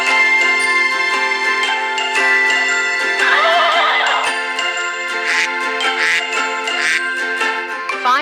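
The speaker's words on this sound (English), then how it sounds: "Horse." A horse neighs loudly over steady bright background music in a toddler's animal-matching game, the whinny rising and falling for a couple of seconds before the music carries on alone.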